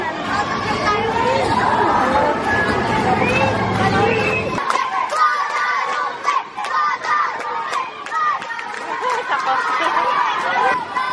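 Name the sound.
noisy crowd chatter at a school volleyball game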